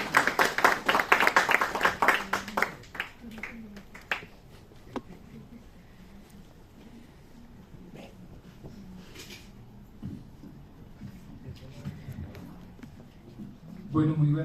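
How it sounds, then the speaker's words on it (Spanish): Audience applause at an academic symposium on artificial intelligence in the arts at a Cali university, loud dense clapping for the first few seconds that thins out to scattered claps, with a voice speaking near the end. "un aplauso por favor a su amigo"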